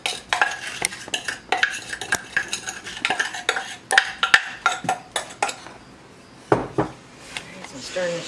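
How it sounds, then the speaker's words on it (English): Sugar is stirred into a pot of cowboy candy with a spoon, making repeated scraping and clinking strokes against the pot in an uneven rhythm. Soft sizzling sits underneath. "Stirring the sugar in."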